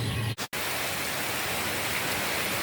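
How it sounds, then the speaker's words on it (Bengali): Heavy downpour of rain pours steadily as broadband hiss, loud and continuous with no talk, apart from a brief sharp dropout near the start. "আর মুষলধারে বৃষ্টি শুরু হলো"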